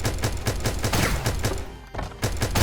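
Rapid bursts of gunfire from the video game Starbound repeat in a quick, steady rhythm, loud and close, with one short pause before the shots resume.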